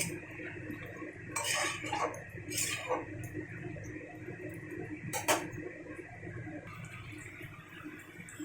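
Metal lid clattering onto a pot of chicken curry, a few sharp clanks and rattles spread across several seconds, with quieter scraping in between, close and fairly soft.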